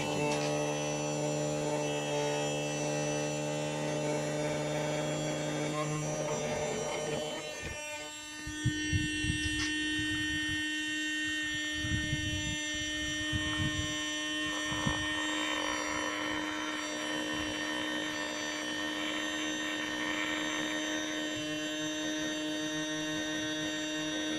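A small battery-powered smoke device for finding intake air leaks on a car runs with a steady electric hum and whine, its tone briefly shifting and rattling as it is clamped in place, with no talking.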